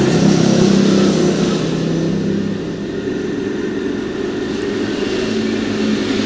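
Motorbike engine in a ride-hailing driver video game: a continuous steady drone that holds at one pitch, dips slightly midway and keeps humming without pauses.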